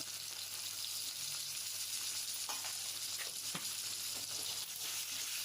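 Chopped tomatoes hit a pan of frying green chillies for a coriander chutney, giving a continuous loud sizzle with occasional stirring scrapes and knocks.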